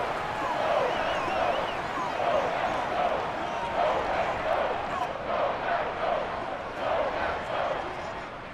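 Stadium crowd noise from a Madden 24 simulation of a Bears vs Packers football game, a steady roar rising in swells throughout, with a play-by-play announcer talking over it.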